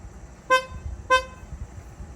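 Two short high-tone beeps from the stock horn of a 2020 Toyota Supra, evenly spaced about half a second apart, close and loud over a quiet background.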